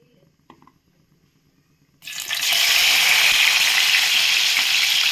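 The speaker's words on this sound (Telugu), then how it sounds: "ఇప్పుడైతే తాలింపు పెడతాం" Quiet for two seconds, then a loud, steady sizzle of spices hitting hot oil bursts in and keeps crackling evenly to the end.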